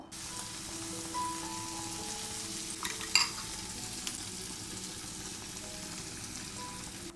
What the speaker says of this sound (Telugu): ఆ తర్వాత మనం ఒక 2 ఎగ్స్ని ఇలా బీట్ చేసుకున్నాం కదా, అది ఇందులో యాడ్ చేసుకోవాలన్నమాట